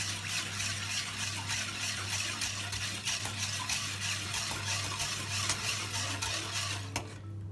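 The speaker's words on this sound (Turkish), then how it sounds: "5 su bardağı şeker, 5 su bardağı su kattıktan sonra tencereye karıştırıyoruz." Steady stirring of sugar and water syrup with gentle liquid sloshing in a pot, with a low constant hum underneath, continuing evenly before stopping near the end.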